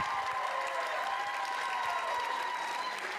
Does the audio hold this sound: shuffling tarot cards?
no